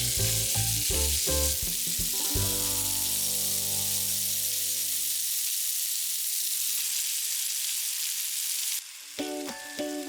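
Food frying in a pan while cooking a quick dinner, a steady close sizzle and hiss running throughout with clinking utensil or pan knocks at the start and near the end.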